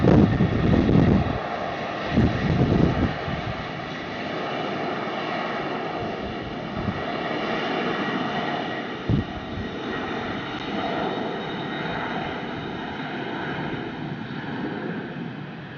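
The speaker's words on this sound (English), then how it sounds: "the special painted aircraft called Amare of Tomorrowland" Aircraft engine noise at Brussels Airport from the specially painted Amare of Tomorrowland livery jet, a steady broad roar heard at a distance with wind rumble and some louder buffeting early on.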